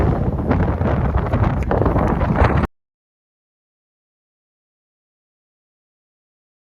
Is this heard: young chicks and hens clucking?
no